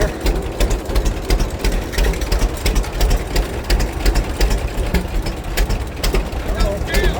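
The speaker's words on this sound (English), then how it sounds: "we got the full tractor race going here" Several tractors at an Alabama spring fest tractor show run together in a race, a continuous throbbing engine drone with rapid rhythmic pulsing, loud and close, while voices talk over it.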